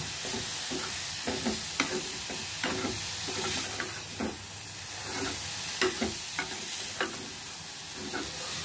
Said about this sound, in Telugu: ఇదిగో ఇందులో కొంచెంగా సాల్ట్ వేసుకున్నాం, పసుపు వేసుకున్నాం. ఇది అన్నీ వేసుకుని బాగా కలుపుకుందాం.